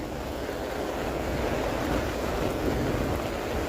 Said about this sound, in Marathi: एवढं तीव्रतेने पाणी चाललेलं आहे